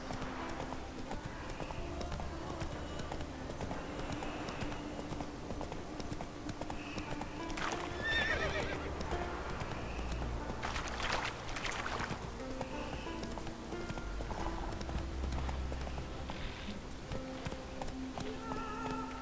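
Hooves of Roach, a horse in The Witcher 3, clip-clopping steadily at a brisk trot or gallop, a continuous rhythmic patter with a brief whinny, moderately quiet under faint ambient sound.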